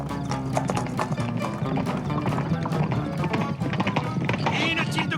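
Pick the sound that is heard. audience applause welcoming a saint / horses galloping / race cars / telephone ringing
horses galloping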